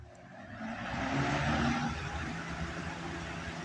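A vintage 1980s Lakewood 20-inch box fan, in rough shape and needing oil, whirs up to speed with a steady broadband rush and a faint motor hum that swells and then holds constant, heard close and alone.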